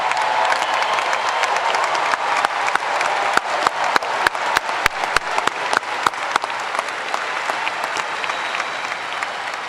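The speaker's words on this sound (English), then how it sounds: "Let's give these guys a round of applause." A graduation ceremony audience gives alumni a sustained round of applause, dense steady clapping throughout with a few sharper claps standing out near the front.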